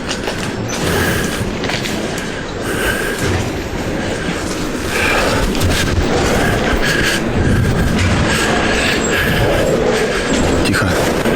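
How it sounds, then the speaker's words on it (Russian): A freight train locomotive rumbles along railway tracks close by, a loud continuous roar with rolling clatter and no letup. "А здесь локомотив, чувак."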